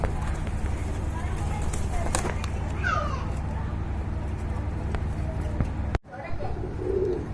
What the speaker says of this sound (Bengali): এখানে দেখতে পাচ্ছেন এক জোড়া লাহোরি কবুতর রয়েছে